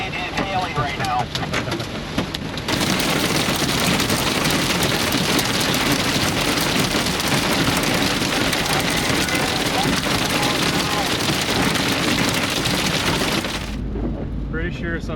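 Hail pelts a car near at hand, a dense, loud roar of rapid impacts that starts abruptly after a couple of seconds and keeps drumming steadily, with voices speaking before and after.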